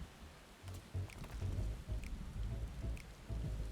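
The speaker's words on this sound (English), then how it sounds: "Why are we standing in the rain?" Rain falls in Final Fantasy XIV as a soft, steady patter on surfaces, with low rumbling swells that come and go underneath, quiet and continuous with no voices.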